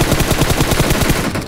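An automatic weapon fires in a fast, even burst of a dozen or so close, loud shots during a PUBG Mobile match, with no talking.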